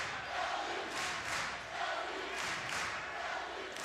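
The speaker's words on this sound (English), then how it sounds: "You hear that crowd chanting LU, predominantly Loyola crowd, as you might imagine" A mostly Loyola crowd at the 2014 men's volleyball championship against Stanford chants LU in rhythmic, rising and falling bursts of massed voices, loud and far-off in a big arena.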